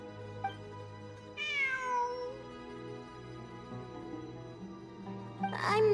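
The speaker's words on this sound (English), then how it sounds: "It really is a cat." In the Genshin Impact ruins exploration quest, a cat meows clearly, with one long drawn-out falling meow followed by a shorter, sharper meow a few seconds later, both over a soft steady game ambience.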